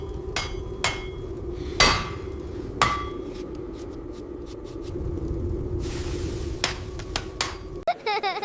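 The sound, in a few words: craftsmen hammering bronze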